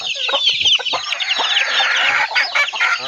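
A loud, busy chorus of chickens clucking and squawking close by, continuous and overlapping throughout.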